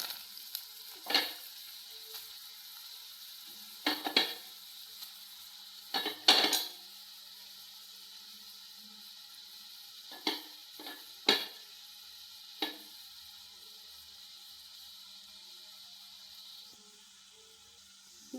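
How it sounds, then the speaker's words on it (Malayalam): Grated carrots frying in hot ghee for carrot halwa, with a soft continuous sizzle broken by intermittent scraping and clinking strokes of a spoon stirring against the pan. "നെയ്യ് ചൂടായി ക്യാരറ്റ് ഇട്ട് കൊടുക്കാം"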